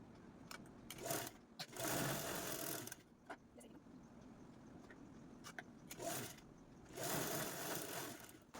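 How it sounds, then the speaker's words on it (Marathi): Sewing machine stitching the lining fabric onto a zipper for a small DIY mini purse or wallet, running in two long bursts of motor whir and needle clatter with quieter handling sounds between. "जशी झिप स्टिच केली ना त्यावरतीच आपल्याला अस्तरचा कपडा स्टिच करून घ्यायचा"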